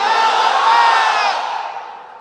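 A large outdoor crowd at a Bangladeshi religious sermon gathering roars a takbir chant in unison, one loud sustained collective shout that swells and then fades over about two seconds.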